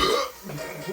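A loud, throaty burp rises right after a gulp of Four Loko malt beverage, short and close, with voices around it.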